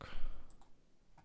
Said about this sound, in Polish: klikamy w punkt